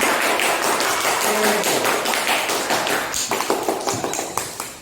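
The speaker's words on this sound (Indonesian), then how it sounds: "Mari tepuk tangan. Tepuk tangan." Classroom hands clapping together as a group of students is applauded, a dense patter of many overlapping claps that thins into scattered individual claps toward the end, with no talk over it.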